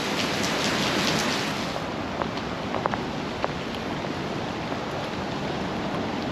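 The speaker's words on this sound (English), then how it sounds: "Mind the rain, it's pretty peaceful." Steady rain hissing outdoors, a broad even wash of noise with a few faint drips and taps standing out, no voices.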